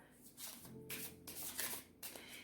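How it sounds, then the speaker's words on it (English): Tarot cards shuffled by hand at close range, brisk papery riffling in several quick bursts with short pauses between them. "I can feel it as I'm trying to shuffle the cards"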